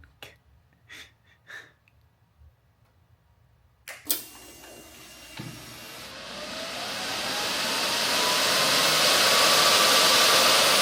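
A Harley-Davidson motorcycle engine fitted with a cooling upgrade fires up with a sharp burst after a few quiet breathy sounds, then swells into a loud, rising, jet-like whooshing roar that keeps building.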